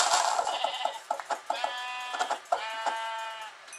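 A sheep in the Minecraft video game bleats repeatedly when struck, a series of clear, close, wavering bleats with short clicks and hits between them, no talking.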